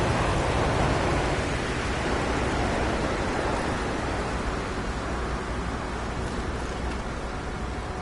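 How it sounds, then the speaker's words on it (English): Pouring rain in the video game No Man's Sky hisses as a dense, steady wash of noise that stays loud and even the whole time, with no talking. "See, it's pouring down rain."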